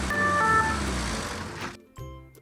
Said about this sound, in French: Là, on a une voiture de police qui arrive.